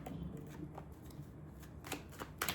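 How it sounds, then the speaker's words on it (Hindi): Tarot cards are shuffled by hand in quick, soft riffling bursts, faint and close, with a couple of sharper flicks near the end. "मैं कुछ कार्ड्स शफल कर लूँ फिर आपको दिखाती हूँ।"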